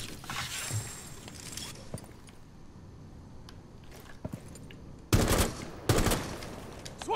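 Gunfire in Rainbow Six Siege arrives as a few sharp, loud bursts near the end, after a quieter stretch of ambient game noise with faint scattered clicks and footsteps.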